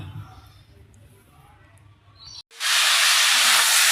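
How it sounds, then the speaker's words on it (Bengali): A curry starts sizzling in a hot pan, a loud, sudden hiss that bursts in partway through and holds steady after a stretch of quiet voices and room noise. "এই যে তরকারিটা আমি কষাই নিচ্ছি।"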